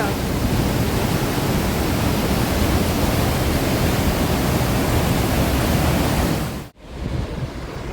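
A loud, steady roar of a mountain waterfall fills the clip, broad and constant, cut off briefly near the end before resuming.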